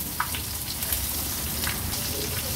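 Semolina-coated stuffed bombil, Bombay duck fish, fry in hot oil with a steady, dense sizzle and scattered small pops, close and continuous throughout.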